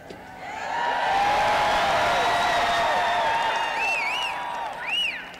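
Crowd at an outdoor presidential campaign rally in Madison, Wisconsin, roaring with cheers and sustained applause, loud and dense, with high whoops and whistles rising near the end.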